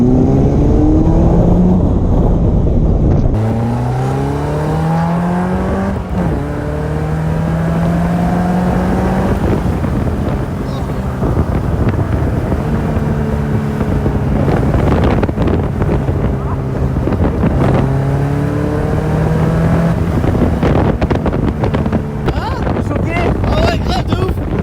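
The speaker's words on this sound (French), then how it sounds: "c'est la première accélération pour Ben en Caterham" Caterham sports car accelerating hard, loud engine climbing through rising harmonic sweeps with gear changes, heavy wind buffeting throughout and people talking over it.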